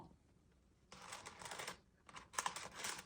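Soft scratching and clicking on a computer keyboard in short irregular bursts, close and quiet, with brief silent gaps between strokes.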